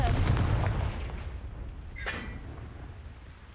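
A blasting spell goes off in a wizarding video game as a loud booming explosion that fades into a rumbling tail, followed by a short sharp crackle.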